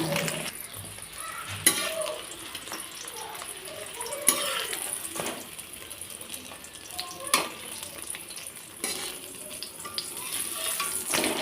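A mini paratha frying in a pan makes a continuous soft sizzle of hot oil, punctuated by several sharp clinks and taps of a utensil against the pan.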